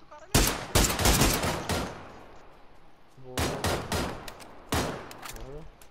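Bursts of rapid SLR rifle fire in the battle royale game PUBG, loud and close, coming in three clusters of quick repeated shots with echoing tails between them.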